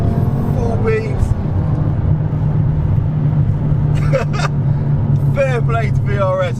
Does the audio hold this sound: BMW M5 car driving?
yes